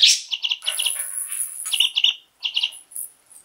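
Several pet budgerigars chirp in quick bursts of bright, high tweets, close by, with short pauses between clusters and no talking.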